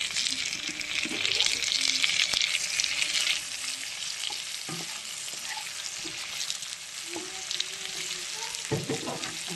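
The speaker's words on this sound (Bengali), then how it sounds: "প্রায় আমার পেঁয়াজ হালকা করে ভাজা হয়ে গেছে। এবার আমি টমেটোটা এর মধ্যে" Onions frying in a pan as tomato is added, a steady loud sizzle with scattered stirring scrapes and clicks throughout, no talking.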